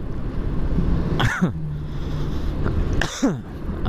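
Two short, harsh coughs about two seconds apart from a motorcycle rider, close to the microphone, over a steady rumble of road and engine noise.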